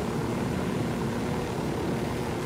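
A little-bird style helicopter in Ghost Recon Wildlands roars with a steady, loud, close rotor and engine noise, unbroken and alone.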